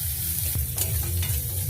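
Garlic with green and dried chillies fries in hot oil, giving a steady close crackling sizzle broken by a few quick stirring scrapes, with no voices.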